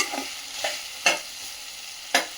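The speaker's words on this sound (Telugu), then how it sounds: "బంగాళదుంప ముక్కల్ని కూడా దీంట్లో వేసేయాలండి" Potato pieces dropped into a frying beans curry (aloo beans) in a pan, giving a few sharp stirring scrapes over a soft, steady sizzle, with no voices.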